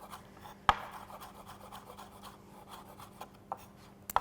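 A knife thinly slicing red onion on a board, quiet and close, with a few sharp cutting taps spaced irregularly over soft scraping strokes.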